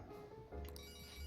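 A phone rings in the video game Persona 5 Royal, a short electronic ringtone heard alone over a soft background music bed.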